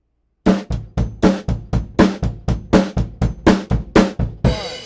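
Drum fill from a song with bass drum, a steady run of about fifteen sharp, close hits in an even rhythm, ending on a crashing cymbal.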